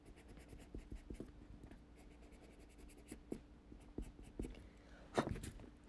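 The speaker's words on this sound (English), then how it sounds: "open this up and erase any marks that you have there." A rubber eraser rubs pencil marks off a wooden clothespin in short, quiet scratchy strokes, close and soft, with a few light taps and clicks.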